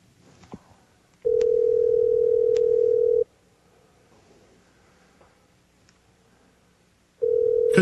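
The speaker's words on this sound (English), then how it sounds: "is why you hear the ringing" Telephone ring tone on a live phone-in call: two long steady electronic tones, one about two seconds and another starting near the end, separated by a quiet gap with faint background noise.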